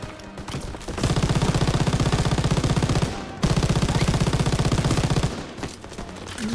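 A mounted machine gun in the World War II shooter Call of Duty WW2 fires two long, loud sustained bursts of fast rhythmic shots, separated by a brief pause and trailing off at the end.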